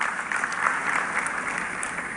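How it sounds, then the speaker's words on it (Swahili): Applause for the musicians and MCs at a funeral service in Meru: a steady, dense crowd clapping that fills the whole moment at even loudness, with no voices over it. "Pigeni wasanii na MCS makofi."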